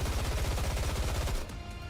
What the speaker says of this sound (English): Gunfire, unmistakably Snow White, erupts from behind.